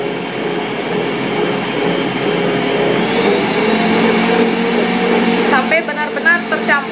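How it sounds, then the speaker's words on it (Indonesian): An electric mixer beating purple sweet potato dough with flour and water for mantao, a loud steady whirring drone that runs continuously, with a few rattling knocks near the end. "Kita matikan dulu mixernya."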